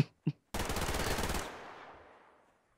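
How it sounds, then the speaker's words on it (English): Rapid burst of shotgun fire in the shooter game Survarium, a few quick blasts merging into a loud dense volley that rings out and decays over about a second, preceded by two short sharp clicks. "I just have a really fast shotgun"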